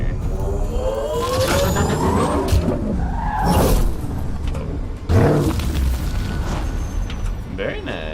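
The Nomad rover in Mass Effect: Andromeda roars along, a loud, gritty engine rumble with skidding, whooshing surges and heavy thumps throughout.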